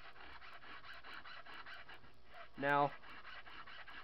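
Hand file sharpening a chainsaw chain tooth, giving steady, evenly spaced rasping strokes close up, with a single short spoken word partway through.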